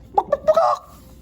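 A chicken gives a quick series of three or four close, clear clucks, rising into a short drawn-out squawk, then quiet.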